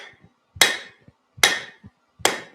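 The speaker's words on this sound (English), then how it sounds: "Make a step on the anvil and flatten it into a nice straight edge piece here" Three heavy hammer blows land on steel on an anvil, each about 0.8 s apart, as a step is flattened into a straight edge. The impacts are sharp and ringing, with small taps between them.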